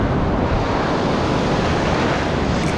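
Ocean waves roll in at the shore at a kayak launch, a loud, continuous broadband surf wash with wind buffeting the microphone, close and without any talking.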